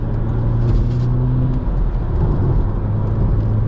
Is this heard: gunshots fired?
no